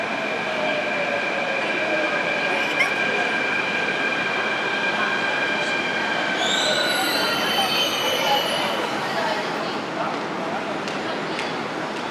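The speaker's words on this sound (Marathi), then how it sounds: "अरे ही काय ट्रेन आली पण पण अगदी वेळेवर" A Mumbai Metro train rolls in with loud, sustained high-pitched wheel squeals over a steady rumble, the screech rising and sliding in pitch near the end.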